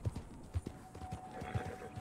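A nervous horse in the Red Dead Redemption 2 video game clops along in a steady hoof rhythm, faint and close, with a thin whinny-like tone partway through.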